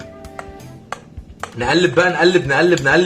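A spoon clinks against a glass in a few light taps, then stirs coffee yogurt with honey quickly, chiming and rattling continuously, up close.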